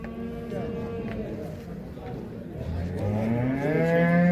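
Cattle moo loudly in long, drawn-out calls, one rising near the end, amid the murmur of a busy livestock market in Sungurlu, Çorum, with people talking nearby.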